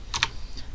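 A couple of quick keystrokes on a computer keyboard while a Cisco switch is configured, two close clicks in a short quiet burst.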